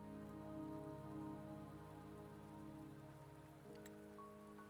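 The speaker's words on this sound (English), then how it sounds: "Don't worry, the rain won't last much longer." Steady rain pours down in the Wuthering Waves game world, a continuous dense patter of drops with a low ambient hum beneath, fairly loud and even throughout with no voices.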